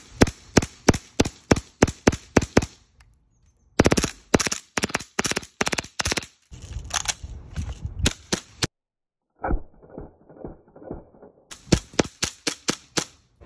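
Airsoft MP7 with a drum magazine and suppressor firing, sharp rapid clicking bursts in long full-auto strings broken by short pauses and a few single shots, close and loud.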